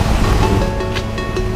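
Ocean surf beside a Phuket hotel roof pool keeps up a broad, continuous roar of waves, loud and steady with faint rhythmic swells and no voices.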